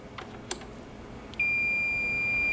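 A few soft clicks as multimeter leads touch, then a steady high-pitched continuity beep starts and holds continuously to the end.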